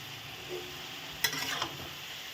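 A spoon stirs a sesame-seed vegetable curry in a frying pan, making a short scraping stir over a soft, continuous sizzle, heard up close with no speech.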